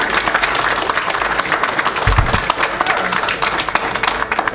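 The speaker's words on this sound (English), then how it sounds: "All right, a little applause." Applause at a city council meeting, a dense, continuous roar of many hands clapping in a chamber, steady and fairly loud, with a brief low thump partway through.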